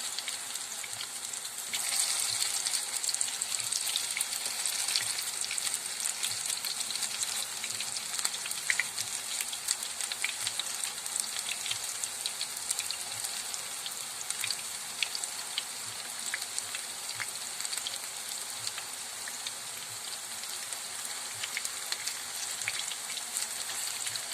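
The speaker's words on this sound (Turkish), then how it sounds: "Altı piştikten sonra diğer tarafını da çevirip diğer tarafını da kızarmaya bırakacağım" Potato köfte patties fry in a pan of oil, a steady, close crackling sizzle with fine popping spatters that holds evenly throughout, no voices.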